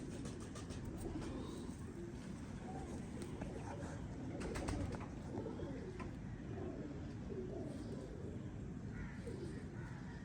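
Pigeons of a kept breed cooing in a low, continuous murmur, with steady background noise and occasional faint chirps.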